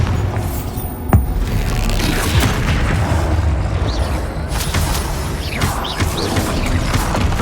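A Bombarda spell explosion in the Hogwarts Legacy video game, a loud booming blast that sits inside a dense, continuous roar of game action and effects sustained throughout.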